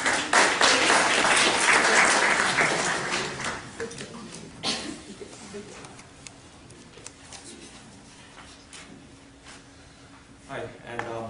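An audience applauds a speaker at an Islamic Awareness Fortnight talk in 2011. A burst of clapping lasts about four seconds, then tapers off into a quieter room with sparse talk.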